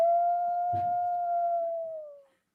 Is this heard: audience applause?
no